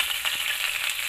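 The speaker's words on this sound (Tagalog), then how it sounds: "parang ginisa lang natin yung suka" Vinegar sautéing in a hot pan for chicken lechon paksiw, a continuous bright sizzle heard up close with no voices.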